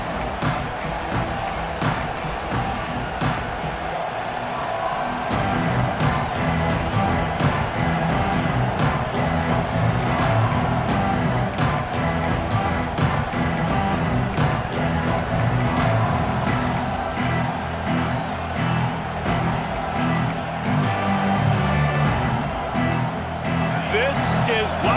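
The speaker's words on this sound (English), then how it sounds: "This crowd ready to make its presence known." A stadium crowd roars steadily in a college football video game featuring Texas A&M, a dense continuous wall of cheering throughout, with a commentator's voice talking over it.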